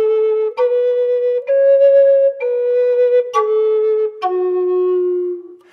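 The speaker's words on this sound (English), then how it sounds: "So ta might sound like this." Native American flute playing a series of connected notes, each started with a sharp ta tongue attack: about seven clear, breathy tones stepping up and down in pitch, close and loud, with no talk.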